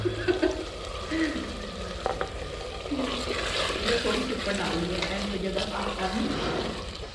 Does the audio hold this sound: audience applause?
no